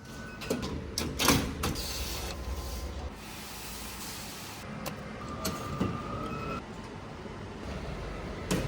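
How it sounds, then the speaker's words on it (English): A large XpertJet 1682SR-DS dye sublimation printer runs with a steady mechanical hum, broken by sharp clunks and sliding carriage noises. "This sublimation printer can print one large full shirt in just 50 seconds"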